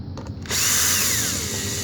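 A power drill whirs loudly as it drives a screw into the airframe of a Volantex Phoenix Evolution RC sailplane glider, starting after a few faint taps and running steadily with a slowly falling pitch.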